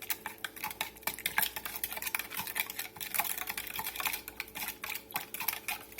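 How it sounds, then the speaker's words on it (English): A steak marinade with black pepper being stirred briskly in a bowl, with rapid, close clicking and scraping in a busy, even rhythm and no talk. "we're going to get this all mixed up"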